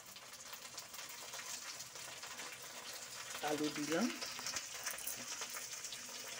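Onion and potato pieces frying in hot oil for a mixed vegetable curry, a steady soft sizzle throughout with someone speaking over it partway through.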